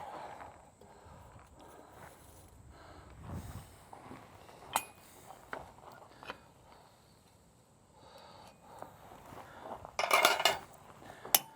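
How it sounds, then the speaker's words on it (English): A fullering chisel struck with a hammer to push lines into a steel leaf on an anvil: scattered light metallic taps and clinks at uneven intervals, with a sharper ringing cluster near the end. "So we use that fullering chisel to make the lines in our leaf."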